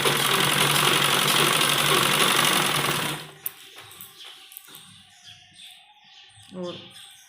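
A sewing machine stitches along the edge of semi-Patiala salwar fabric in a loud, steady, close whir for about three seconds, then stops, leaving faint handling noises and scattered small sounds.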